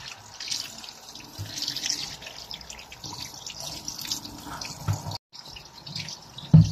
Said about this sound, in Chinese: 我们用凉水再把它冲洗一下